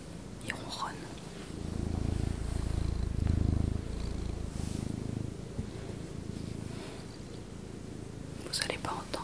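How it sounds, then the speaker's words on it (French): A soft, steady purr rumbles close up, low and continuous, with faint rustling and a few quiet clicks. "Il ronronne."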